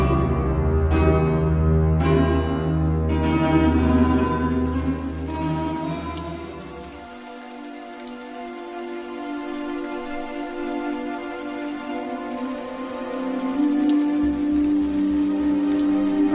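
Steady rain falls throughout, a dense hiss of drops on a surface, with a low droning rumble underneath for much of it.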